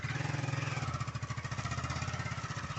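A motorcycle idles close by with a fast, even, pulsing chug that holds steady throughout, alone and without talk.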